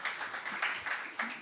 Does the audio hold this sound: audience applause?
yes